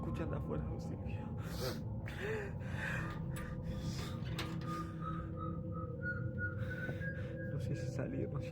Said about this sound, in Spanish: De vuelta los silbidos ahí.